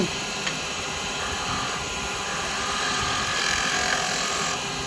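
A wood lathe spins a birdhouse blank while a spindle gouge cuts it, making a steady, loud, continuous whir and hiss of shaving wood, close up and unbroken by talk.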